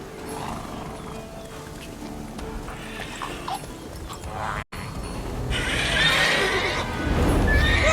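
The horse Roach in The Witcher 3 gives loud, close neighs and whinnies over game ambience, with a brief dropout midway before a stronger, sustained whinny swells toward the end.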